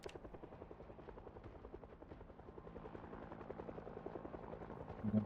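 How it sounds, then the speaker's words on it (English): Helicopter in the video game Project Zomboid, a steady low rotor chop pulsing rapidly and growing slightly louder as it flies near, with no talk over it. "it simulates a helicopter flying around near the player"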